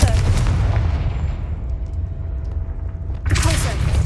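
A Confringo fire-blast spell going off in the game Hogwarts Legacy: a heavy, rumbling blast that decays over a few seconds, followed by a second sharp burst near the end.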